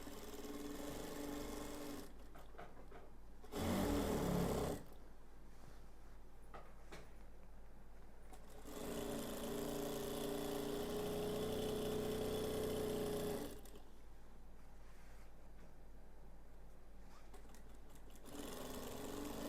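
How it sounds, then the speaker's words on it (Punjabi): A sewing machine runs the side seam of a ghaghra in two loud stitching bursts, one brief and one longer and steady, with quiet gaps and soft handling between them. "ਘੱਗਰੇ ਜੁਆਇੰਟ ਕਰਨ ਲਈ ਸਾਈਡ ਤੇ ਸਲਾਈ ਲਗਾ ਰਹੇ ਆ"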